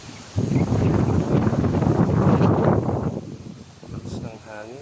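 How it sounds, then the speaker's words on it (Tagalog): Strong coastal wind at Ternate, Cavite buffets the microphone in a loud, rumbling roar for a few seconds, then eases as a faint high whine and birds come through. "Lakas ng hangin."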